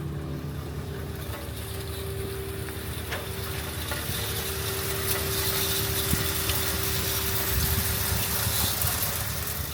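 A boat wash-down sprayer pumps water in a steady hissing gush over a constant motor drone, rising slightly in loudness and running without a break for the whole stretch.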